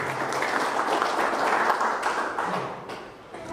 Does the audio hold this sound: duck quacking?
no